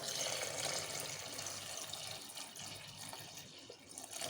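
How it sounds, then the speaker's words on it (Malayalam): Cold water is poured into a fruit juice, a steady, close, continuous pouring rush with a slight dip near the end. "ഇനി നമുക്ക് നല്ല തണുത്ത വെള്ളം ഒഴിച്ചു കൊടുക്കാം"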